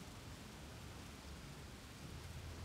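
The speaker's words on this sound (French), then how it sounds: "Les jours de pluie ont commencé, forcément." Steady rain in a video game, Cliff Empire, hisses evenly with no breaks, a soft constant wash of falling water under faint low rumbling.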